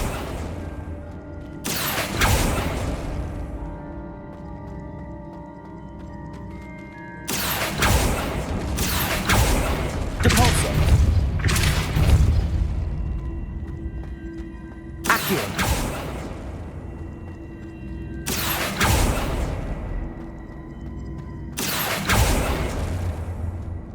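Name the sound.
Accio spell cast in the video game Hogwarts Legacy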